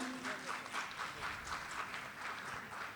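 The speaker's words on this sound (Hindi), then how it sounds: "द्वितीय पुरस्कार विजेता हैं, आपके लिए जोरदार तालियां होनी चाहिए।" Audience applause for a second prize winner at a tribal pride day event honouring Birsa Munda: dense, continuous clapping from a crowd, steady and fairly loud throughout.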